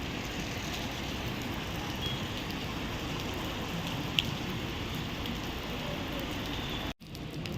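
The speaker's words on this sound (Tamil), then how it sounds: "செம்ம மழை பெய்யுதுங்க பிளாட்ஃபார்ம் கூட மாற முடியல" Heavy rain pours at the Erode bus stand as a steady, even hiss throughout, with one brief tap standing out; no one speaks.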